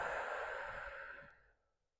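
A deep, breathy exhale from a person in a yin yoga flow, steady and close, tapering off to silence after about a second and a half.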